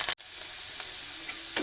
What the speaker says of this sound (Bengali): গরম মশলাটা দিয়ে এবারে আদা, রসুন আর লঙ্কাটাকে দিলাম।